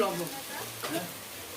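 Soft, steady sizzling of food frying gently in a pan over a low gas flame, close and continuous for a brief moment with faint background noise.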